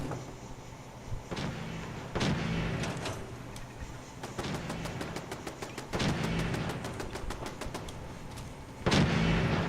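Gunfire in Fallout aimed at a Deathclaw, coming as repeated sharp bursts and rapid trains of shots with a few heavier bangs, moderately loud and without talk.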